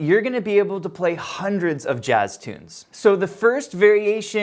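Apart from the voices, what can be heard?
None of the usual background noises is heard.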